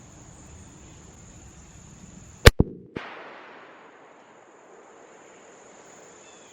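A single sharp, loud rifle shot from a .45-70 Government rifle fired outdoors, its crack echoing briefly and then decaying over steady insect buzz.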